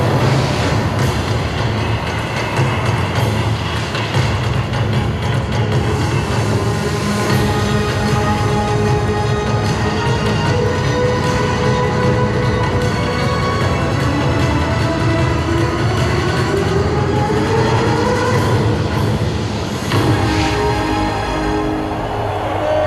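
Loud, steady rumble of a metro train in motion in Qatar, with a rising whine as it accelerates and no voices.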